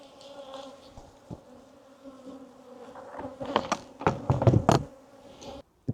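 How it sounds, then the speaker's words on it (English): Steady insect buzzing of many honeybees around a hive in a home apiary, swelling louder and busier toward the end with some tapping sounds, no talking. "The bees look like they're fairly chilled, coming back from the day out."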